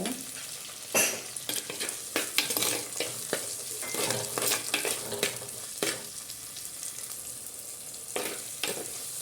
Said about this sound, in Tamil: அதே நல்லா வதங்கட்டும்